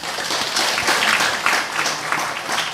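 Applause rises from a church congregation after an announcement about food the women members prepared, a thin scattered clapping that holds fairly steady for a few seconds at moderate level.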